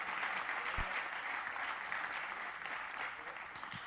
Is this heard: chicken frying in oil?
no